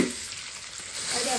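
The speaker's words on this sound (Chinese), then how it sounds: "葱和姜，十三香，炒一下" Scallion, ginger and thirteen-spice powder stir-fried in a hot wok, a loud close continuous sizzle that swells slightly as the food is tossed.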